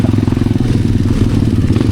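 A borrowed Yamaha Mio scooter rides a wet, rainy trail near Santa Lourdes, its engine giving a loud, steady, close drone with a rough, pulsing beat. Occasional clattering and thuds come from the bike on the slippery ground.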